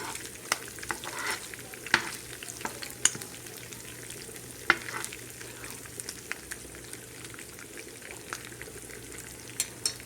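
Halved green chillies fry in a tempering for chana dal with bottle gourd, giving a soft continuous sizzle dotted with sharp crackles and pops, with no one talking.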